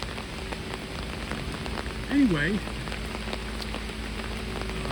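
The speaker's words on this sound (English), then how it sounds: "when you're in the Smokies, you have to expect rain, and indeed we got it." Heavy rain drumming steadily on surfaces at a campsite in the Smokies, dense and close with constant patter, while a voice speaks briefly partway through.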